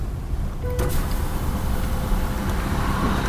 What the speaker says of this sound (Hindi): मैं विंडो को ओपन करूंगा और बाहर का ट्रैफिक का साउंड आएगा